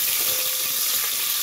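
Crushed garlic frying in hot oil, a loud, steady close-up sizzle with a bright crackling hiss and no voices.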